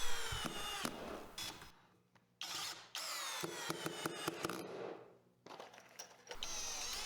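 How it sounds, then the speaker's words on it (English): A Greenworks 24V cordless drill driving 2-inch screws into hard maple without pilot holes, with several close, loud bursts of motor whine broken by brief pauses and clicks. "Then I ran some 2-inch screws with no pre-drill, and it had no problem completing that task."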